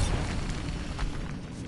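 Bombarda blasting spell in Hogwarts Legacy, a short booming explosion with a dense low rumble and crackling burst, loud and close, fading over under two seconds.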